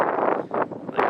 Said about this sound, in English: Gusting 45 miles an hour this morning